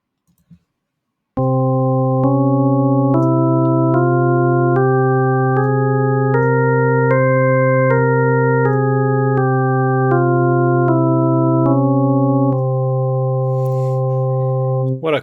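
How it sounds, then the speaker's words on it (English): A piano plays a scale with a lowered second degree, stepping up one note at a time and back down in even, sustained tones, loud and clear with no talking. "Let me pull up the piano."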